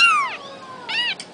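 A young female kitten about two to three weeks old gives two high, close meows, one long falling cry, then a shorter one, with a brief squeak at the end and no talking.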